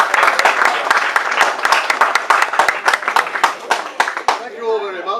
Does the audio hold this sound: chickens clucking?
no